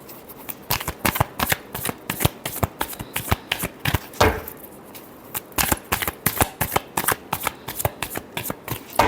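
Tarot cards shuffled by hand give a rapid, continuous run of crisp, close riffling snaps and taps in an uneven rhythm, with one brief heavier shuffle burst midway and no voices over it.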